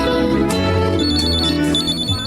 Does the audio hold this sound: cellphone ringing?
yes